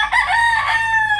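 A farm chicken, a rooster, gives one loud, close crow lasting just over a second, sustained and slightly falling at the end, alone with no talk.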